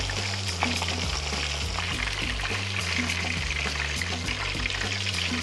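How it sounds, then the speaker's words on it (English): Steady crackling sizzle of pork deep-frying in hot oil for sweet and sour pork, close and continuous, with a faint rhythmic thumping underneath. "It's all coming out the second frying."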